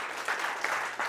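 Workshop audience clapping during an Influence for Impact session at a company offsite, a dense patter of many hands with a few louder swells, filling the short moment without talk.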